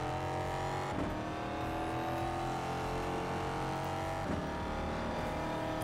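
Race car in ExoCross driving at speed: a steady, droning engine roar with layered harmonic whine, constant and close, with a couple of brief bumps or shifts.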